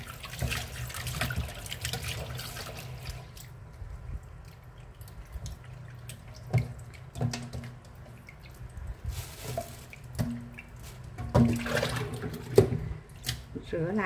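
Tap water runs and splashes while pig intestines are rinsed after being scrubbed with salt and lemon, with intermittent splashing and clunks up close and a voice talking over it.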